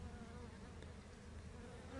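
Honeybee foragers at a hive entrance during a hive transfer, giving a steady, dense insect buzz that stays close and continuous throughout with no voices.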